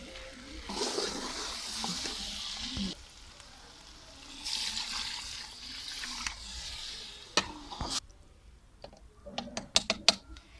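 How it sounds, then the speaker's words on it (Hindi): Water poured into a pan of frying potato and pea curry, a hissing sizzle rising in bursts over the first eight seconds, then sharp clinks and taps of a utensil against the pot toward the end. "अब मैं डालने लगी हूँ पानी, क्योंकि सब्ज़ी हमारी भून चुकी है।"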